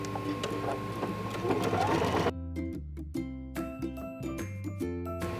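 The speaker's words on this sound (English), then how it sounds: "So I'm going to sew up about 1/3 of the way, and then I'm gonna leave an opening, and then I'm gonna continue sewing up." A sewing machine stitches the side seam of a bathing suit bottom, a loud continuous run first, then short bursts of stitching separated by pauses, close and with no talk.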